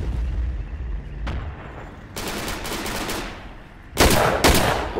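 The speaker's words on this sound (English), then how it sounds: "We're taking fire." Gunfire crackles in the World War II shooter Darkest Hour, with rapid bursts and single shots at mid distance over a steady rumbling background, the loudest volley near the end.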